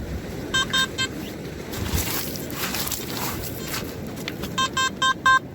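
Metal detector tones sounding over a buried coin, a few rapid rising beeps at the start and a repeated strong burst of beeps at the end, with outdoor ground noise and rustling between.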